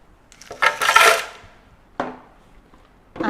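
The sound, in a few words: spooning instant coffee for a frappe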